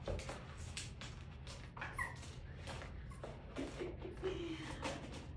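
A poodle puppy whines and yips in short high-pitched bursts, repeated irregularly over a steady low background hum, fairly faint.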